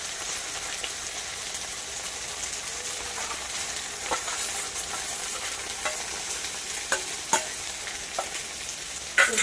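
Spice paste with tomato, salt and turmeric fries in a pan, giving off a steady hissing sizzle at close range. Occasional sharp ticks and scrapes of stirring cut through it, and a louder clatter comes at the end, with no voices.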